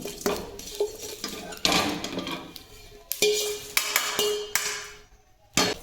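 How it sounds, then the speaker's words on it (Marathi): Metal spoon scraping and clanking against a pan while black masala spices are dry-roasted, with repeated sharp stirring strikes and rattles at close range, no voices. "एकीकडे माझी मसाल्याची पदार्थ भाजायचं काम चालू आहे"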